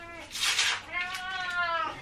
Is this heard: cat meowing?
yes